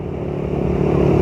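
A motorcycle engine idling and building slightly in level, a steady close mechanical rumble with clatter, heard alone with no talk; the bike was recently serviced with an oil change and chain work.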